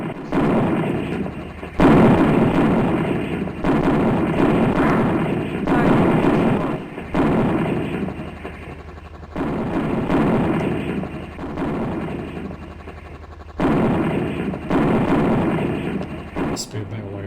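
Hellfire missiles from a Comanche attack helicopter in the Comanche Maximum Overkill computer game blast targets, a string of loud booming explosions every couple of seconds over an engine drone, with talk in between.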